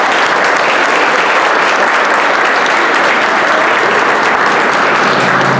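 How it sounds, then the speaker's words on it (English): A town hall audience on crime and community in Colorado Springs applauds its panelists with a dense, steady roar of clapping, loud and sustained for the whole stretch with no talking over it. "Let's give a round of applause to our panelists."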